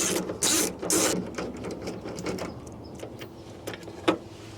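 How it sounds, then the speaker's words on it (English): T-30 Torx bolts loosened and removed on a Ford Transit sliding door interior panel, with a few sharp ratcheting clicks and metallic mechanical rattles, close and fairly quiet, with no speech. "these are Torx bolts, and they're a T-30. So we're just going to loosen and remove those"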